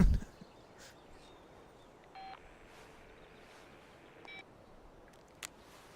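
Electronic beeps from a phone on a small bedroom desk in Life is Strange: Before the Storm, a few short tonal bleeps at about two and four seconds over quiet room tone, with a brief click near the end.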